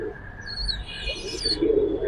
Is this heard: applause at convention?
no